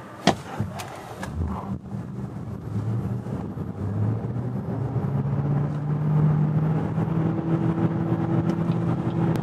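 A BYD Seal U DM-i, a 2025 plug-in hybrid, accelerates hard to 100 km/h on a snowy, slippery road, its drive noise and tyre roar swelling steadily from a quiet start with a rising tone near the end.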